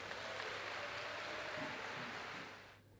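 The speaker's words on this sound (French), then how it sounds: "Est-ce qu'on peut applaudir pour nos candidats, s'il vous plaît?" Steady applause from an audience at a song contest in Guinea, a soft, even wash of many hands clapping that fades out near the end.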